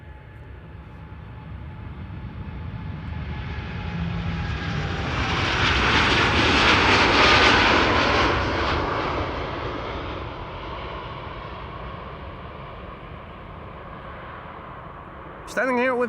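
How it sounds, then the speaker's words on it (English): A KLM Boeing 787-9 Dreamliner rolls for takeoff at Amsterdam Schiphol, a distant engine rumble building to a broad roar at its peak and then receding, with a brief clatter at the very end and voices faintly in the background. "KLM Flight 781 to Georgetown is now rolling."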